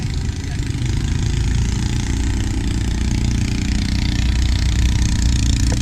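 A boat engine idles at the Banjarmasin floating market, a steady low rumbling drone that stays loud and even throughout.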